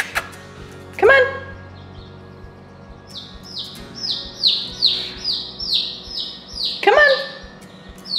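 Baby chicks chirping indoors, a series of high, rising-and-falling peeps in quick succession, moderately close, between two louder separate calls, with faint background noise.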